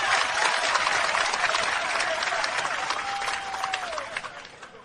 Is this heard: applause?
yes